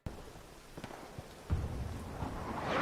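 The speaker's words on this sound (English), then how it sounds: "This rain is honestly very annoying." Rain falls steadily in the World War II shooter Hell Let Loose on the Carentan Causeway map, a continuous wet hiss with a few soft thumps and a swelling patter toward the end.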